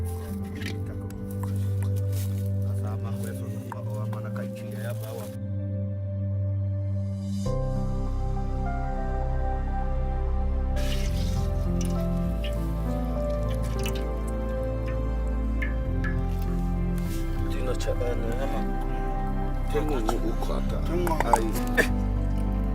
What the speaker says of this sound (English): squeeze the pulp through a straining fabric to extract enough liquid to make a small amount of poison